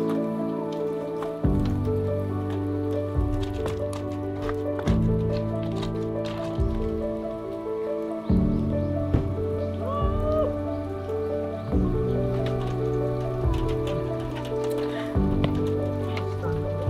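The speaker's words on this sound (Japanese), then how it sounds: "でもめちゃめちゃ雨が降ってると" Heavy rain falls steadily outdoors, a constant patter with scattered drop ticks that runs under louder background music with slow chord changes throughout.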